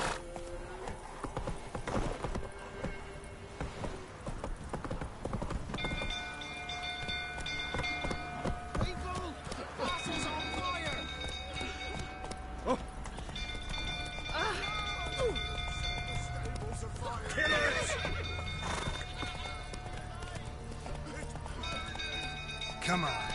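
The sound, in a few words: horse Roach galloping and neighing, video game The Witcher 3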